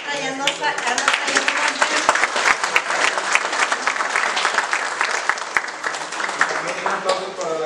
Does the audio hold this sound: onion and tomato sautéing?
no